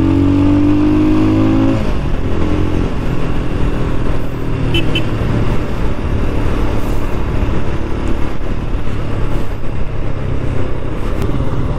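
A Royal Enfield Scram 411 motorcycle engine drones loudly while riding, a low revving hum at the start giving way to steady engine roar mixed with heavy rushing wind noise throughout.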